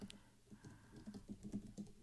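Quick, light typing of a comment on a computer keyboard, a steady patter of soft key taps close by.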